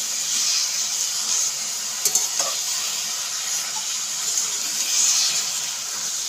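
Leaves are stirred in a hot pan with no added water while their moisture cooks off, giving a steady, close sizzling hiss with a few soft scrapes of the stirring utensil partway through.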